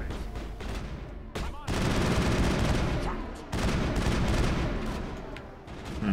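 Loud bursts of automatic gunfire in Mass Effect, with rapid shots in long sustained volleys broken by a few short pauses, dominating the mix with little talk.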